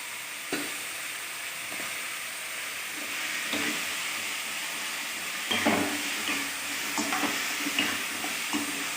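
Masala for a green turkey berry kara kuzhambu sautéing in a pan, with a steady sizzle and hiss broken by spoon scrapes and knocks against the pan, close by and with no speech.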